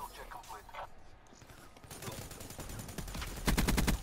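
Rapid gunfire bursts from the Dark Matter VMP in Black Ops 3, arriving as dense, loud rattling volleys that build in the second half after a stretch of game noise, with a voice talking over it.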